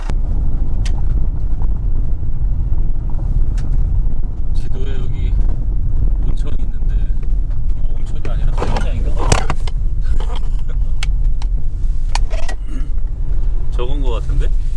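A car with a low-slung body driving on an unpaved gravel road in Iceland, giving a steady loud rumble of tires and engine with wind buffeting, intermittent rattles and knocks, and people talking over it.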